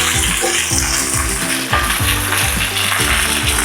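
Partially cooked potato pieces fry in hot oil for Filipino beef caldereta, giving a loud, steady, close sizzle that runs unbroken throughout, with a low tonal hum beneath it.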